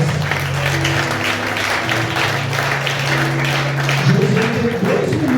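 A congregation at a Sunday worship service claps together, a steady mid-level applause over a sustained musical tone from an organ or keyboard.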